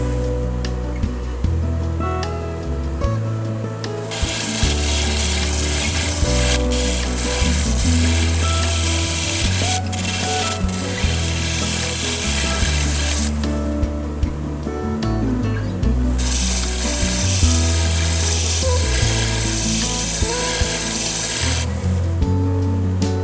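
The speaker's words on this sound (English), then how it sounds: "because this cutter is cupped with no flat surface, it's actually slicing through the wood grain, leaving those fine shavings" A cupped carbide cutter slices exotic wood on a lathe, a close, steady rasping shear that starts and stops in bursts, with the lathe's hum running underneath between cuts.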